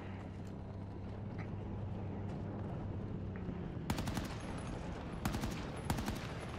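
Heavy light machine gun fire in Battlefield 2042, Breakthrough mode on the Orbital map: several sharp bursts of rapid shots cut through a low, steady rumble of background noise, loud against an otherwise quiet mix.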